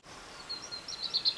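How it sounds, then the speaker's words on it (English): A bird gives a quiet, low warbling sub-song, a string of soft high chirps that grows a little louder and quicker toward the end, heard alone against near silence. "indulging in low, warbling sub-song."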